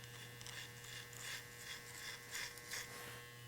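An electric hair clipper buzzes steadily close by while tapering a neckline fade on a slicked-back haircut, with a constant low hum and soft, irregular brushing swells as the blade passes over the hair.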